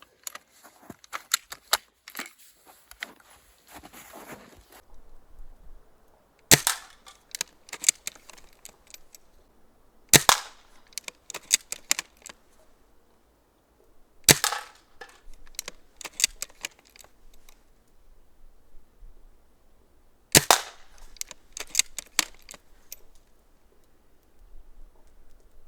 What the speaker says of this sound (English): let's go out and shoot some soda cans with this sniper